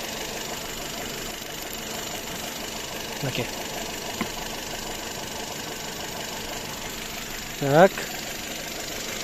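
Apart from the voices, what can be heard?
Skoda Octavia 2016 1.6 engine idling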